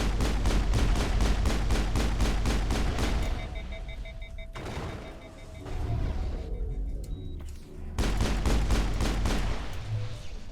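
Rapid sniper and weapon fire in the video game Mass Effect, a fast rhythmic volley of sharp shots, a pause with game effects and tones, then another burst of rapid fire.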